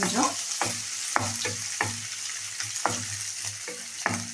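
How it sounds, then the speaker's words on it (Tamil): Garlic and ginger frying in a pan, a close crackling sizzle with a spatula scraping the pan in a quick, regular rhythm about twice a second, no voices. "இந்த பூண்டு இஞ்சி போட்டுக்கலாம். இது அப்படியே வறுத்துக்கலாம்."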